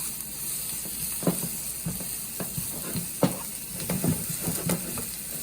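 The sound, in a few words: diced red onion sizzling in a pan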